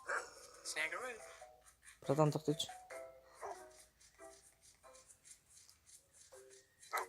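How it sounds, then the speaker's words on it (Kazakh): A dog in the video game Robbery Bob 2 barks in a short, loud burst partway through, while a person talks over the game audio before and after it. "Ит бар екен."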